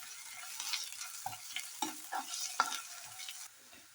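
Onions frying with curry leaves and ginger garlic paste for a broad bean masala curry, a soft steady sizzle with several distinct spatula stirs and scrapes, fairly quiet and close, no talking.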